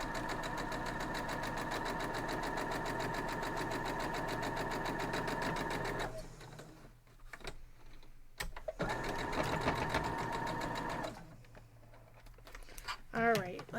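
A sewing machine stitches a quilt block in a fast, even mechanical run for about six seconds, then stops, then gives a few shorter bursts of stitching. Quiet handling noises fill the gaps.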